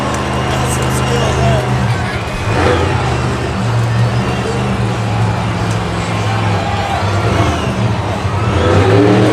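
Max D monster truck balanced on its front wheels in a stoppie at Monster Jam in St. Louis, its engine roaring and revving steadily over a loud arena crowd, with an announcer talking throughout.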